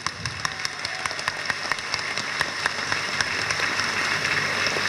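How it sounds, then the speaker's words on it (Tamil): An audience at a Reddiyar community conference applauds with scattered, irregular claps over a steady background hiss, moderately loud and continuous for several seconds. "இவருக்கு பரத்த கரகோஷம் கொடுத்து அவரை உற்சாகப்படுத்துங்கள்"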